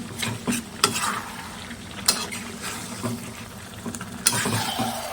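Chicken coated with chili is turned over in a hot pan, with a moderate ongoing sizzle and several distinct spatula scrapes and clanks against the metal at irregular intervals.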